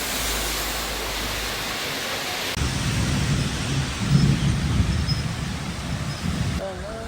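Steady, heavy rain pours in Wayanad while deep thunder rumbles and swells through the middle. The downpour is loud and continuous throughout.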